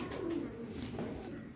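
Soft, low pigeon cooing runs throughout, a steady murmuring coo at moderate distance with no voices.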